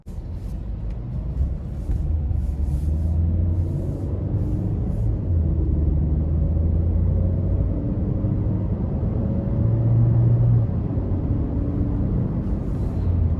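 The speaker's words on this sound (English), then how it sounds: "So far, really good pull from the 4-cylinder. The turbo definitely helps out, and the 6-speed is a lot more tame" Steady low engine rumble and road noise inside a 2020 Chevy Sonic hatchback with a turbo four-cylinder and six-speed, cruising on the road, continuous and even with a slight rise in pull near the end, no talk.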